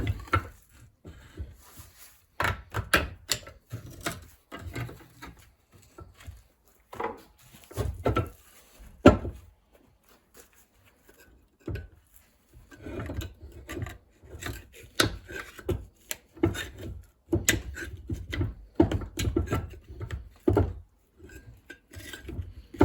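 Prying a part off a cheap lawnmower, with irregular scraping, rubbing and clunking of metal parts in short bursts and pauses, close and fairly quiet.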